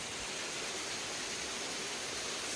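The Juryeom waterfall on a canyon trek gives an unbroken hiss of falling water, even and fairly close, with nothing else over it.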